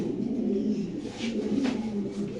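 Fancy Lahori pigeons coo at a pigeon farm, with low, throaty, rolling coos repeating close by over a soft background hum.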